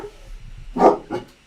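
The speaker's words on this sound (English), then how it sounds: "You guys hear the dogs barking?" A few sharp dog barks ring out close by, two distinct bursts after a quiet, faintly rumbling start, loud against an otherwise still indoor room with no talking.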